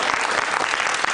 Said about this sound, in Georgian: ამ ჩვენ აპლოდისმენტებით ვანიშნოთ რომ ჩაეთვალა